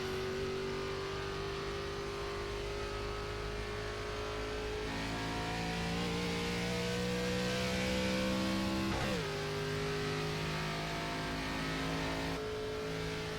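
ARCA race car engine in the iRacing game, revving and climbing steadily through the gears with a sustained droning tone and rising pitch, loud and continuous with brief shifts.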